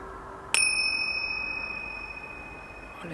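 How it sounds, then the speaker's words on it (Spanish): A small chime is struck once to close a mindfulness meditation, ringing out clear and close with a long, slowly fading shimmer in an otherwise quiet room. "Y con el sonido de las campanillas,"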